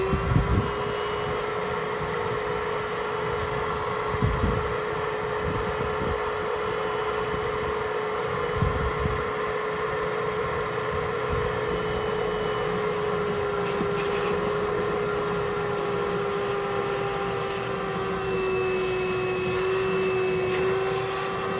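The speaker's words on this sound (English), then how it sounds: "right now I'm going to vacuum out the water that's in the skimmer." A wet-dry vacuum runs steadily, sucking water out of a backyard pool skimmer while winterizing the pool lines, a loud continuous whine with a strong low hum and occasional gurgling slurps, no voices.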